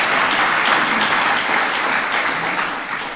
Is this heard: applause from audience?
yes